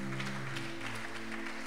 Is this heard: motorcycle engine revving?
no